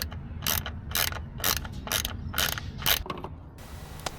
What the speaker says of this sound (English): So just use a 10mm socket to remove this bolt.